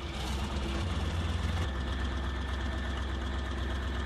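A Panther tank's engine in a drivable vehicle game runs as a steady, heavy, low idle, constant and close throughout with no talking.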